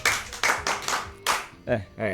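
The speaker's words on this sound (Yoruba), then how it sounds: "Ẹ pàtẹ́wọ́ fún o." Clapping from an audience at a Yoruba children's storytelling show comes as several crisp, near claps in an uneven rhythm, then a voice speaks over the last part.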